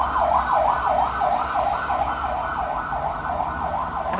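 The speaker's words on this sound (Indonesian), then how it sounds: "Ada ambulan lewat, gengs." An ambulance siren wails nearby in a steady, rapid up-and-down cycle over rumbling road traffic. It stays loud throughout with no talking.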